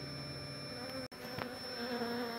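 Honeybees buzzing around a long-established chimney hive being removed and vacuumed, a soft continuous drone with a brief sharp click partway through.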